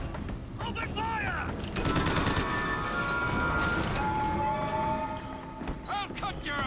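Gunfire and mechanical weapon clatter in the video game Bioshock Infinite, loud and continuous, with rapid bursts, ratcheting mechanisms and swooping tonal effects layered together, and game voices shouting over the fight.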